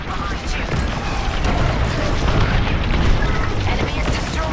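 Enemy starfighter blowing up in Star Wars Squadrons, a dense loud roar of explosion and engine noise filling the whole stretch without a clear single blast.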